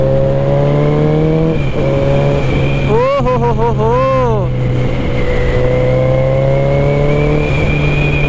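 A Suzuki Hayabusa motorcycle engine runs loud and close at a steady idle, then revs up and down in quick swells before settling back. Someone talks over it throughout.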